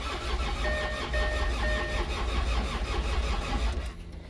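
Land Rover Discovery TD5 diesel engine cranking without catching, a steady rhythmic starter churn lasting several seconds before cutting off abruptly, heard close and alone.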